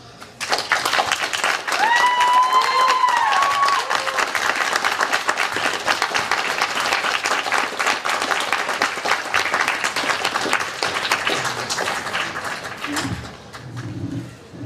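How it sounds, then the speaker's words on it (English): Sustained audience applause at a student union election debate for executive candidates, a dense, loud wash of clapping in a hall that holds steady for most of the span before thinning out near the end. "Can we just give him another round of applause?"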